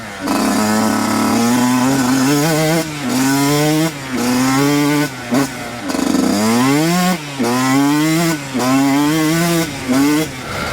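A Yamaha YZ125 two-stroke dirt bike with a rich-running fault, freshly re-jetted, runs loud and close, revving up and down in repeated throttle blips with brief drops between pulls.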